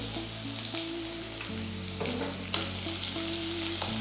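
A large sliced onion, about half a cup, fries in well-heated oil for a Kerala breadfruit dish, giving a close, steady sizzle with occasional stirring clatters and no talking.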